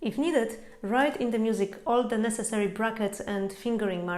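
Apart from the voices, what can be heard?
None of the usual background noises is heard.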